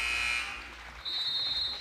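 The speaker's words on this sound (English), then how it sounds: "that may have beat the buzzer" Game-end buzzer at a professional basketball game, a harsh electronic tone sounding at the start, then a second sustained blare of the same kind, loud and steady over crowd noise.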